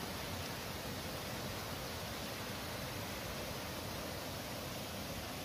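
The Kuroyama Santaki waterfall in Ogose, Saitama, is heard from a distance as a steady, even broadband rush, constant and soft with no other sounds standing out.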